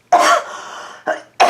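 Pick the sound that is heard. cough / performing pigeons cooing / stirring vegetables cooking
cough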